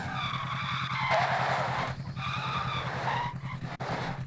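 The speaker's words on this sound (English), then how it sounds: "There goes that car." A car in Call of Duty Warzone skids with a sustained tire squeal over a steady engine drone, the screech rising and falling across the whole stretch, near and fairly loud.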